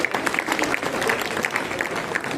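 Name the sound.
audience applause welcoming a guest to the stage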